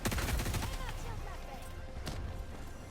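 Killzone assault rifle fire in the video game Helldivers 2, a close, loud, rapid burst of shots that fades into softer scattered noise, with a few later pops.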